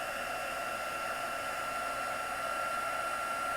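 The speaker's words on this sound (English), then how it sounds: "bring in my heat tool. Give it a moment to heat up and then emboss" An embossing heat tool blowing hot air, a soft, steady whooshing hiss with a faint whine that stays even from start to finish.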